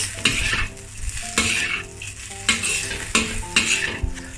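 Indonesian nasi goreng kampung stir-fried over high heat, loud close hissing with rhythmic metal spatula strikes and scrapes against the wok roughly every half second, ringing metallic tones between strokes.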